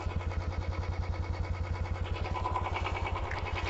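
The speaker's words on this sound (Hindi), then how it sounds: "मैं पहले आपको इसका सुनाता हूँ एग्जॉस्ट का नोट" A Royal Enfield Standard 350 BS6 motorcycle idles with a steady, even exhaust thump at close range and a low rhythmic beat throughout.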